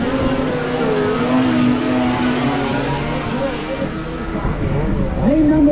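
Snowmobiles at a drag race, their engines droning loudly with rising revs, a rider's machine pulling away and another surging near the end, under an announcer's voice.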